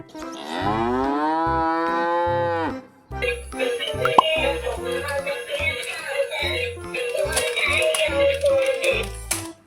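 A toy cow plays a loud, drawn-out mechanical moo at close range. Rattling and clattering toy noises follow, with no clear speech.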